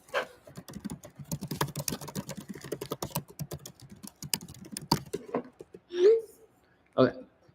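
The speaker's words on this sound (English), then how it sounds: "Just pausing the live stream here so I can write a message." Quick, close clattering keystrokes on a computer keyboard run in a steady burst for several seconds, then a few louder isolated taps follow as the typing slows and stops.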